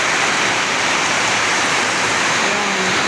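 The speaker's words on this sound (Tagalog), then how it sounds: "Sobrang lakas ng ulan." Heavy, windless afternoon rain pours down in a dense, even hiss that stays loud and constant throughout, with no voices.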